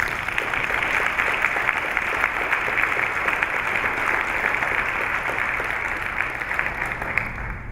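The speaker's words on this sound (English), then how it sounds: "Let's give her a big round of applause" An audience at a school board of education meeting gives a big round of applause to an award-winning teacher, dense sustained clapping from many hands filling the room at an even level, with no voices over it.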